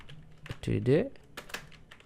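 Keyboard typing while entering text into an HTML paragraph tag, a few quick close clicks heard under a voice that talks through the middle of the clip.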